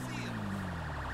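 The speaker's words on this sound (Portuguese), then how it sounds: "ó, a sirene, ó." A warbling police siren from GTA V wails at mid distance over the steady drone of an in-game Bandit 1250N motorcycle engine, with the siren pitch sweeping up and down continuously.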